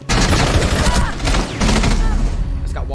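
Rapid bursts of gunfire from the Rainbow Six Siege video game, loud and dense, nearly continuous across the clip with a brief gap midway, while a voice talks over it.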